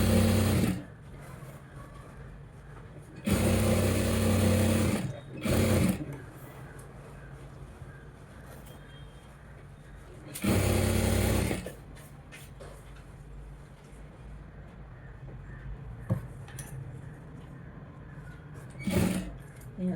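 A sewing machine stitches fabric in several short bursts of close, steady whirring, separated by quiet pauses filled with faint handling of cloth.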